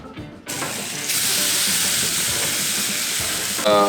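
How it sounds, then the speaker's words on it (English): Chicken cooking on a hot grill for curry chicken salad gives a loud, steady broadband sizzle that starts abruptly after a short quiet moment and holds for several seconds, with no talking. "All right, you ready to grill this?"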